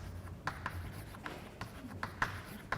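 A lecturer writes equations on a board: a series of soft, irregular taps and scratchy strokes, fairly close and quiet, with short pauses between marks and no talking.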